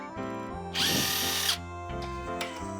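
A power tool whirs loudly for just under a second while bearing caps are removed from a gas engine, set against a steady mechanical hum with brief tool clicks before and after.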